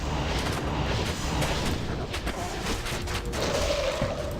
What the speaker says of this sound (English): see that Corpse Explosion in its full effect? It's awesome.